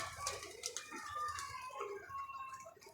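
A pigeon cooing softly at a pigeon club loft, several low, gentle coos repeating over quiet background noise, faint and close by.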